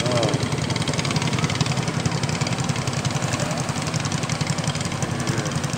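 A boat engine revs hard and steadily on the Kahayan River in Central Kalimantan, a loud, continuous throbbing drone heard close up with no break.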